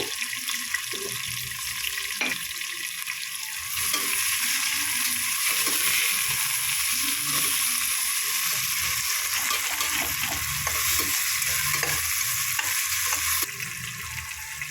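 Sliced onions with a pinch of salt frying in oil for chicken biryani, giving a continuous close sizzle that swells louder partway through, with scraping stir strokes and soft clinks of a spoon against the pan, no talk.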